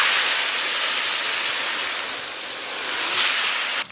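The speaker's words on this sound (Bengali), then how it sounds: "সুন্দর করে মাছগুলো ভেজে নিচ্ছি।" Big head fish fry in hot oil in a pan for a village-style curry, giving a loud, dense, continuous sizzle close up with no talk.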